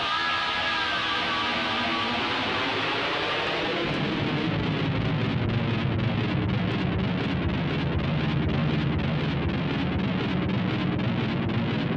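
An electric guitar plays through echoing delay from one Boss ME-50, then distortion from a second Boss ME-50 turns it into a dense, chaotic wash that keeps building.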